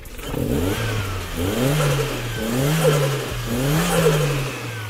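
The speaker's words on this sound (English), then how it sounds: "Give it a quick rev, mate." Turbocharged Toyota Starlet engine revving right after a service, with repeated rising blips of the throttle that fall back to a steady idle between them, loud and close with no voices.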